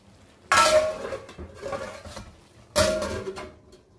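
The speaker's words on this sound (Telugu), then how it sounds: "సో ఇలా వేసిన తర్వాత దీని మీద మూత పెట్టి దీన్ని మగ్గనిద్దాము." Lid placed on a pot of pumpkin sesame curry, two sharp metallic clanks a couple of seconds apart with softer clinks and scraping between them, close and clear.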